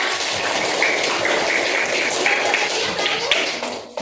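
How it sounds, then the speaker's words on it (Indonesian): Classroom of students clapping together after a teacher's prompt, a dense steady patter of many small hands filling the room, fairly loud and continuous, with faint children's voices underneath. "Betul, tepuk tangan."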